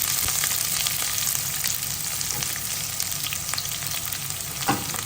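Onions sizzle and crackle steadily in hot oil in a pan while making an ivy gourd stir fry, a dense continuous frying hiss with faint stirring scrapes, close and without talk.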